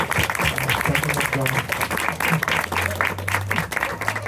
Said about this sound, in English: So let's give another big round of applause to Hanumat.